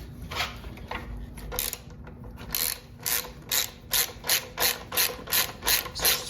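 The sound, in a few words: ratchet undoing the last tail bolt on Honda CBR650R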